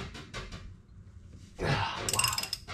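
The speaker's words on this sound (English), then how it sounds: "Gonna loosen this bolt up right here." A ratchet loosening a bolt on the engine of a 1986 Ski Nautique boat, faint clicks followed by a louder burst of ratcheting and metallic clatter close by, briefly and without talk.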